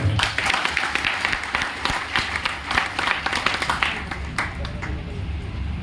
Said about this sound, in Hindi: तालियां भाई के लिए।